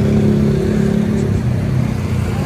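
Ride inside a motorized tricycle, a steady mid-pitched engine drone with slight revving, close and continuous throughout, with no talking.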